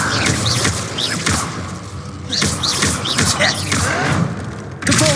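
An Incendio spell cast in the wizard video game Hogwarts Legacy, with a fiery burst and thudding impacts amid busy combat effects, repeated spell sounds and a player's voice speaking over the action.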